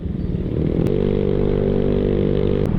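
Motorcycle engine droning loudly and steadily nearby on a road, with the pitch rising as it revs and passes; recorded from a Yamaha Mio Sporty scooter ride with wind noise underneath.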